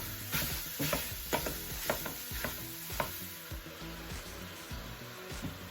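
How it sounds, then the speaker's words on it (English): Crumbled regular sausage browning in a pan, with a steady sizzle and repeated scraping stirs of a utensil against the pan at a slow, uneven rhythm, close up and with no talking. "Our sausage is done browning"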